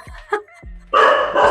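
A dog barks a few times, a short bark, a pause, then a louder run of barks nearby, set against a quiet indoor room.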